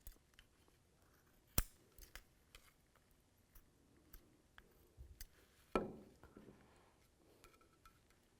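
Scissors snip away excess material while a 2007-2013 Chevrolet Silverado performance tail light is replaced, giving one sharp close cut followed later by a short crunchy trim, with faint ticks and handling noises in between.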